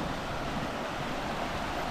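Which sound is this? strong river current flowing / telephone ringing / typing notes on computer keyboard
strong river current flowing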